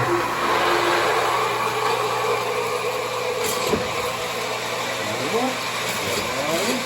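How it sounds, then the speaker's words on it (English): A Harbor Freight shallow well pump for a whole house runs steadily with a loud constant motor hum and rushing drone, a faint pitch sweep emerging near the end, with people talking over it. "Small pump for a whole house."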